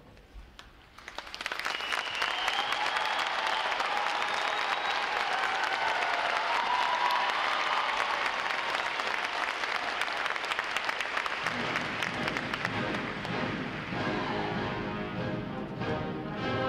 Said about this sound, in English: letting your applause show these sailors just how proud of them you are